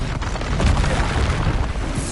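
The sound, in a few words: Expulso spell explosion in the Hogwarts Legacy video game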